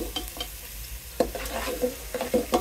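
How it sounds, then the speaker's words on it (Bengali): Gobindobhog rice, moong dal and a little turmeric fry together in a pan, with close scraping stirs and crackling sizzle in an uneven rhythm, no voices. "সবগুলি একসাথে কিছুক্ষণ ভেজে নেব।"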